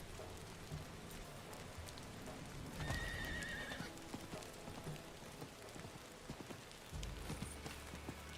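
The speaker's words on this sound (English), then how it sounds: "Oh, the horse can just leap over." Horse in Diablo 4 gallops with steady clip-clopping hooves and gives a clear neigh midway, set against a bed of falling rain, no talking.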